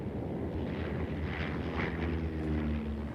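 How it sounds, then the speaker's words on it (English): Carrier-launched Navy propeller warplanes from the Korean War era fly past with a steady, continuous engine drone and rumble, fairly loud and unbroken throughout. "The carrier-launched prop planes were now joined by Navy jets."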